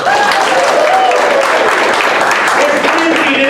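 Steady audience applause fills the room at a live show, dense and loud clapping from a crowd sustained throughout, with voices faintly mixed in.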